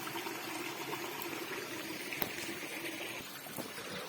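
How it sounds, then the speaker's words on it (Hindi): Water from a small waterfall in a forest beside a farm rushes and splashes steadily, a continuous moderate wash of flowing water with no voices. "ये ऐसे झरने।"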